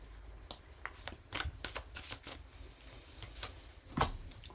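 A deck of tarot cards is shuffled by hand in quick irregular riffles and slaps, crisp and close, with short pauses between bursts and no speech.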